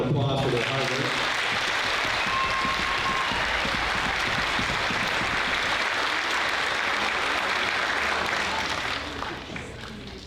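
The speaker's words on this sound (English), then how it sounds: "give them a round of applause for their hard work" An audience applauds at a middle school band concert, sustained dense clapping with a little voice mixed in early, holding steady and then thinning slightly at the end.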